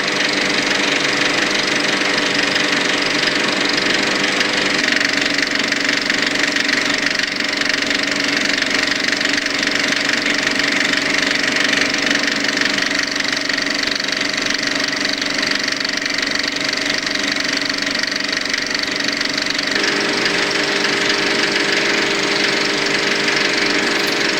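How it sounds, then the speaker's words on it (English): A Victoria 8 cinema film projector running in the projection room of the Odeon Barking, a steady, loud mechanical whirr and rattle that holds for the whole stretch with no voices over it. "here we have the Victoria 8 projector"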